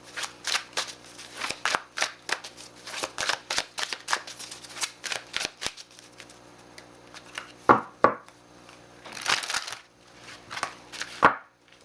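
Tarot cards shuffled by hand in quick rustling bursts of flicks and slaps, with a couple of sharper riffle-and-bridge sounds near the end, close and moderately quiet with no voice.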